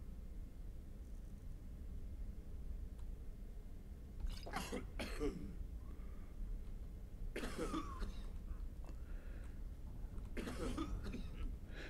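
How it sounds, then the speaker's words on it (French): Characters in the video game Skyrim cough in three harsh, raspy bursts spaced several seconds apart, each a short cluster of hacking coughs over a constant low background hiss. "Mais arrêtez de tousser."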